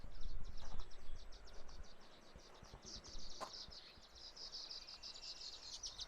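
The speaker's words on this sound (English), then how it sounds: "You guys hear the birds?" Birds chirp outdoors in the Montana countryside, a continuous high twittering chorus heard at a distance over low rumbling wind and handling noise.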